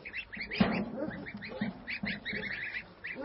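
Geese honk and cackle repeatedly on a goose farm where goslings are raised, a loud honk standing out near the start and overlapping calls continuing close by throughout.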